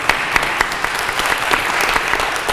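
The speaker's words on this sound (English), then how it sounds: "that deserves a round of applause." Steady applause from an audience at a trans community center's sixth anniversary celebration, dense clapping with a few sharp peaks, loud and close, with no talking over it.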